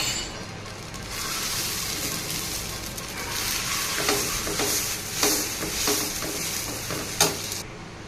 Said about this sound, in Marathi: चला आता ह्याचा स्प्रेड करूया आपण डोसाचा बॅटर